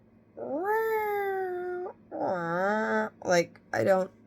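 A human voice imitates a distressed cat with long, wavering meows and yowls, followed by two shorter cries, close and clear against a quiet background.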